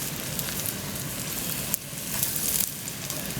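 Salt fish cakes searing in a hot pan give a steady, close sizzle that holds at an even level throughout, with faint stirring movement and no talk over it.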